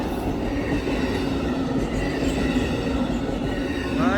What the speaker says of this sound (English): Alright, there it goes folks, on its way to Emeryville, making a pit stop at Reno station.